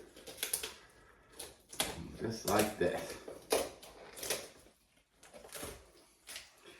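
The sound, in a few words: kitchen scissors cutting through turkey backbone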